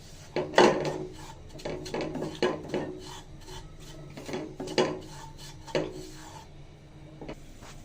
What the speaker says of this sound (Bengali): সামান্য চালের গুঁড়া দিয়ে ভেজে নিব।